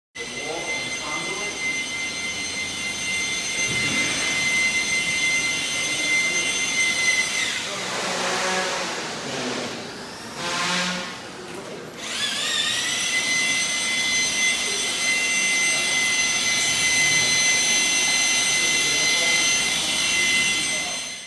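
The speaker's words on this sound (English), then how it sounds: "They're starting to mix their mud." A high-pitched power mixer mixing drywall mud whines steadily for a long stretch, dropping briefly in the middle before spinning back up, heard from a nearby room.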